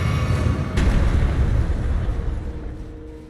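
Heavy cannon blast from the twin cannon enemy in Elden Ring's Shadow of the Erdtree at Lower Rauh Ruins, a loud booming impact near the start that rumbles and slowly fades with lingering low-end reverberation.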